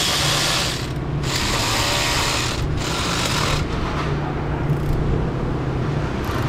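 A ratchet turns a very shallow socket on a double wobble extension while working on the intake of a 2005 Ford Expedition 5.4 three-valve. The clicks are close and constant, with brief pauses between bursts of strokes.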